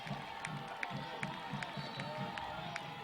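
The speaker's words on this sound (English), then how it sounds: "Crowd's getting a little bit into it" A high school football crowd roars steadily at a Northview versus Smith Station game in 2007, a dense, distant wash of cheering with a faint rhythmic beat pulsing underneath.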